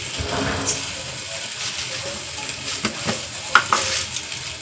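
Cumin seeds tipped into a hot pan of oil for tomato rasam, giving a steady close sizzle and fry with occasional stirring clinks and scrapes of a utensil against the pan.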